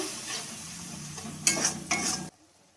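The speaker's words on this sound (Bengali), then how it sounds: "এবার আমি ভালোভাবে মশলাটাকে কষিয়ে নেব" Masala for masala chicken is stir-fried with a little water, giving a close sizzle with spatula scrapes and two louder bursts before it cuts off abruptly.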